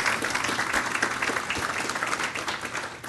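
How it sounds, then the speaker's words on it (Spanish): Audience applause for participants at the 2017 Peru Internet Governance Forum, a dense, even roar of many hands clapping continuously at fairly close range. "Les brindamos un fuerte aplauso en señal de agradecimiento."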